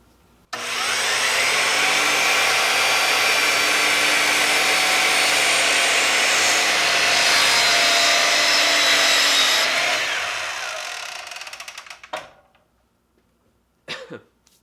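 A chop saw cuts with no dust collection, a loud steady whining roar for about ten seconds that winds down, followed by a couple of brief knocks.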